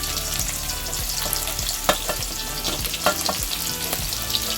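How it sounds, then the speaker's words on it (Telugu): Chopped onions hit hot oil with cumin for egg rice, giving a steady close sizzle and crackle with a few sharp clicks and scrapes of a spoon stirring in the pan. "ఆనియన్స్, చిన్నగా కట్ చేసుకున్న ఆనియన్స్ వేసుకుంటున్నాం మనం ఇప్పుడు"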